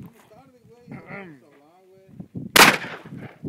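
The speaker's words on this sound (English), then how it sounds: "I want to shoot that cardboard box" A single loud 20 gauge shotgun blast aimed at a cardboard box cracks out sharply near the end, with people talking and murmuring before it and a voice continuing just after.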